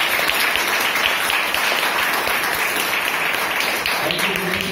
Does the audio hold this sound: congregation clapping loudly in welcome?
yes